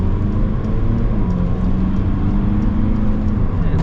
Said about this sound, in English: we are going to go up this hill and get a little acceleration